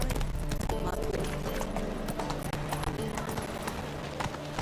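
The horse Roach trots in The Witcher video game, its hooves beating a quick, steady clip-clop close by over a dense backdrop of game music and ambience.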